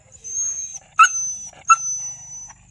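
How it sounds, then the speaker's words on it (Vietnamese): A spotted multi-purpose hunting dog barks loudly twice in quick succession, close by, with a thin high whine running between and around the barks. "Chịu khó này, sủa to."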